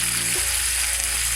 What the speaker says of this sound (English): the chops are sizzling nicely in our frying pan